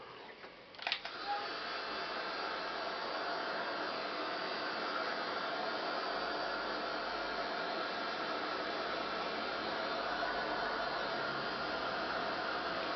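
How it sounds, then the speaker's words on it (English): Heat gun blowing steadily over mica paint on an altered canvas, a continuous broadband airy roar that starts after a brief click and holds level for the rest of the clip, close and fairly loud with no talking. "When you use the heat gun on this"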